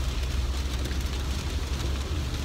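Steady rain pours down in a dense, even hiss that holds without letup for the whole stretch, fairly loud and close, with no voices over it.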